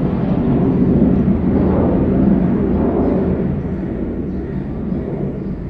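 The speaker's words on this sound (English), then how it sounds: "Sorry for the aeroplane." Low, droning rumble of an airplane passing overhead, loud at first and slowly fading over several seconds.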